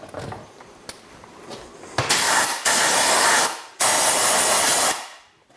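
Compressed air from a workshop airline blasting into engine cylinder bores, two loud sustained hissing bursts of about a second each after a few faint clicks and handling sounds, close and with no talking.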